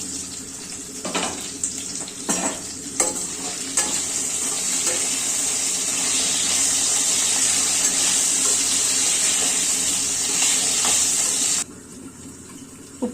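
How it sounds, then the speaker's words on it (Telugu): Water runs from a tap into a yogurt bowl in a home kitchen, a steady rushing splash with a few brief clanks at the start, continuing for most of the stretch before cutting off. "పెరుగు గిన్నెని దీనిలో ఈ వాటర్ వేసేసుకోండి"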